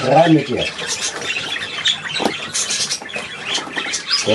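A bird squawks sharply as it is put into a box, with a harsh cry at the start and a brief one later, under close rustling and a person speaking.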